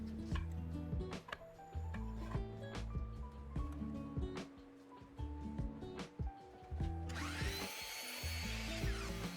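Wooden frame pieces for a raised planter box herb garden, legs and spreaders, cut with a power saw: repeated close cutting bursts and rasping wood noise over a steady tonal background, with no talking.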